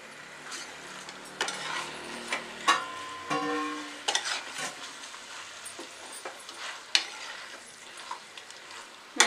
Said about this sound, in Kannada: ಎಲ್ಲ ಕಡೆನೂ ಹೊಂದ್ಕೊಳ್ಳೋವರೆಗೂ ಚೆನ್ನಾಗಿ ಮಿಕ್ಸ್ ಮಾಡ್ಕೊಳ್ತಾ ಹೋಗೋಣ